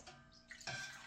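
Turkey juices pour into a strainer in a kitchen, a short close splash and trickle of liquid that swells into a louder gush near the end, with no voices.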